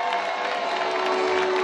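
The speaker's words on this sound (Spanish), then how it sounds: "Eso, aplauso" A crowd at a local festive event applauds and cheers at once, a dense, steady wash of clapping and shouts that holds even and loud throughout, with no voice standing out above it.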